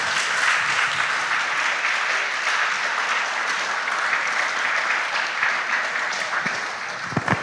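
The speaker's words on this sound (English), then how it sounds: "Please clap for them." Steady applause from an audience at a junior high school quiz competition, sustained and fairly loud for the whole stretch with a few sharper claps near the end.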